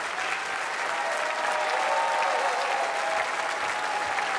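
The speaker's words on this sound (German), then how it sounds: "Dein Applaus, genieß es." Steady, loud audience applause on a German television autumn music show, greeting a singer; continuous clapping from a large crowd with no pauses, and no talk over it.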